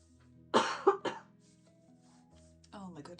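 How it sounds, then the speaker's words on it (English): A lingering dry cough, a couple of short harsh bursts close to the microphone, followed by a brief voice. "I have that like lingering cough, you know, that's like really dry."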